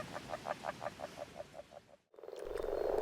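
Agile frogs croak in a pond, a regular run of about a dozen soft pulsing calls, then a brief silence before a louder, rougher chorus swells in.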